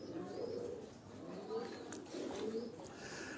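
Pigeons belonging to a breeder in Dharampura, Lahore coo softly on a rooftop breeding setup, low rolling coos repeating in steady waves with faint background noise.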